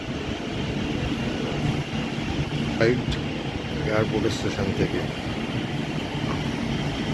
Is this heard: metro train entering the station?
yes